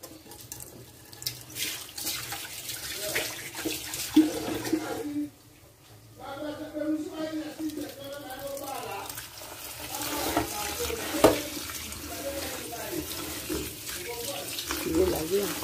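Running tap water splashes into a sink as food is washed by hand, with the flow briefly dropping and resuming amid splashes and clatter, while a person talks intermittently.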